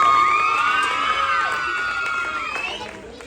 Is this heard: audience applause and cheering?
yes